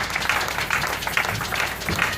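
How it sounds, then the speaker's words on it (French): A church congregation claps together during a Sunday worship service, a steady wash of hand claps rising and falling in rough waves for a couple of seconds with no talking over it. "Applaudissons le Seigneur."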